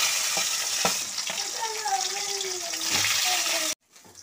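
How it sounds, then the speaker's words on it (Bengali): Water is poured into moong dal frying in a pan, so a loud sizzle and bubbling hiss runs throughout with a few stirring knocks before stopping abruptly near the end. "মুগের ডালটা আমি একটু ভেজে নিই। একটু ভাজা হয়ে গেছে, আমি এটার মধ্যে একটু জল ঢেলে দিচ্ছি।"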